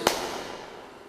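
A single sharp transient rings out into a long, smooth reverb tail recorded in an echo chamber, the decay delayed by 17.9 milliseconds and fading gradually over about a second.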